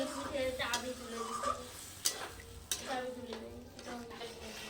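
Curry braising in a pan after water is poured in, with a spoon scraping and clinking against the metal in bursts over a low simmer, while a voice hums tonally in the background.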